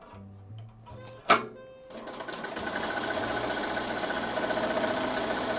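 After a sharp click, an embroidery machine starts stitching a name onto a bag tag patch. Its rapid, even needle chatter builds and then runs steadily and close up to the end.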